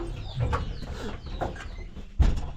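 Chickens cluck and call nearby in short bursts, with a dull thump near the end.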